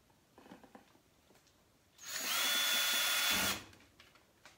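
A power drill bores into a real baseball for a short burst, a loud, steady whine lasting just over a second, set against quiet rustling before and after.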